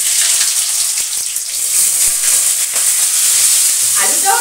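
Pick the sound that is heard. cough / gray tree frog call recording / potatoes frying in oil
potatoes frying in oil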